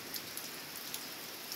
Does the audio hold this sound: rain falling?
yes